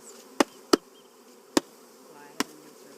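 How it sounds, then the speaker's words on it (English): Honey bees being brushed into a new hive give a low, steady drone, broken by four sharp, loud knocks spaced unevenly, with no talking. "Well, how many bees do we have here?"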